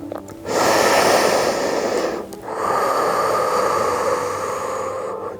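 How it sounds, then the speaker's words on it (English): Deep, slow exhales through the mouth during a gentle yoga session, two long breathy rushes of air heard close and loud with a brief pause between them. "Deep exhales through the mouth help us to let go of anything that is not serving us."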